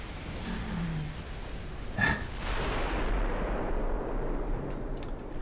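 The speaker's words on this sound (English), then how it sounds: "Torpedo hit on the Zealandia from the Kustenhuter." Torpedo striking the ship Zealandia in a naval video game: one sharp, heavy blast followed by a long low rumble over steady background noise.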